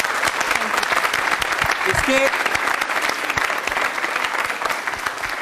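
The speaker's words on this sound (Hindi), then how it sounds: "तालियां हो जाएं इनके लिए जोरदार वाली" Studio audience applause at a televised yoga-day special quiz show in Rajasthan, steady dense clapping sustained throughout at moderate volume, with a host's voice speaking briefly over it.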